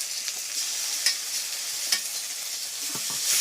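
Cumin paste with ginger-garlic paste is stirred and fried in a pan, giving a steady close hiss with soft scraping strokes and a few sharper clicks as the spoon moves through the mixture; no one talks.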